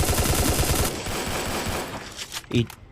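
Rapid video-game gunfire from many directions, dense automatic bursts up close, thinning out with a few louder isolated shots near the end.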